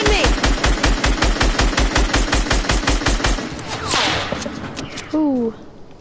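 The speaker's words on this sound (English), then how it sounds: "Oh, who's shooting me?" Close automatic gunfire from a video game, a fast, regular burst of around twenty shots lasting a few seconds, followed by a whoosh and brief talk.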